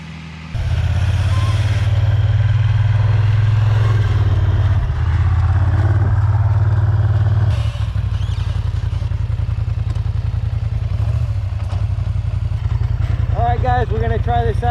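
Can-Am Renegade XMR 1000R or Polaris Scrambler XP 1000S ATV launching in two-wheel drive: a loud, steady low engine drone runs throughout, with a brief dip partway before it roars on, and voices appear near the end.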